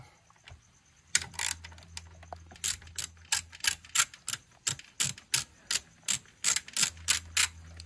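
A ratchet loosens a 10mm bolt on a Nissan 350Z VQ35HR engine, giving a close, crisp series of rapid clicking bursts in a steady back-and-forth rhythm, with no talking.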